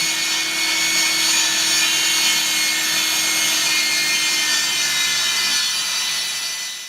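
A saw rips lengthwise through a vinyl flooring plank with a loud, steady, high whine that holds for several seconds before easing off at the end, close up with no voices.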